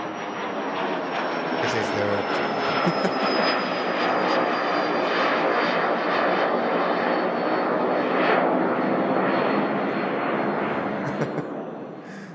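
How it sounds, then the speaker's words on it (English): Aircraft engine roar from a plane departing Manchester Airport in thick fog, a steady broad rumble holding loud for about twelve seconds before easing at the end, with someone speaking briefly over it. "An aircraft just departed"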